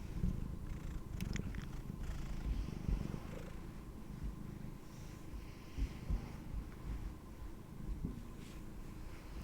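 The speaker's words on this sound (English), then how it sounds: "I wonder if you guys can hear him purring." Close, soft purring from a cat rumbles continuously, with a few small rustles and bumps along the way.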